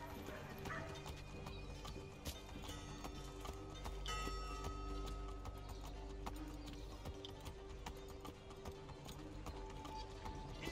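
A horse's hooves clip-clop through a town in Assassin's Creed III, steady rhythmic steps under a constant ambient game background with scattered small noises.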